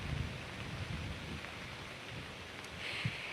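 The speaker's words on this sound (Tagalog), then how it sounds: "sa mga oras nga na ito nakakaranas na ng pag-ulan sa ilang bahagi ng Ilocos Norte" Steady rain falling during a typhoon in Ilocos Norte, a constant soft hiss with a faint low rumble, heard alone without voices.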